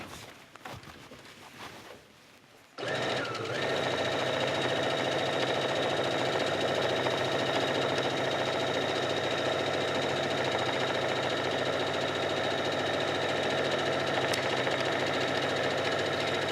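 Sewing machine stitching a row along t-shirt knit fabric, starting after a quiet moment and then humming and whirring steadily and close by at an even pace until the end.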